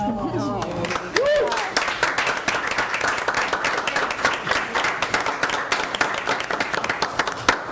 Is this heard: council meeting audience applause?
yes